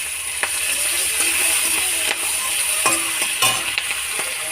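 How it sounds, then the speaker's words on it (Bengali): Bay leaf and green chili hit hot oil as a tempering and sizzle steadily up close, with a few sharp clinks and scrapes from stirring. "এবারে ফোড়ন দেব তেজপাতা"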